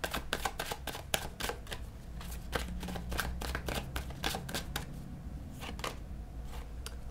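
Tarot cards shuffled and handled in a burst of crisp, rapid riffling and slapping snaps, close and fairly loud, continuing steadily with no voices.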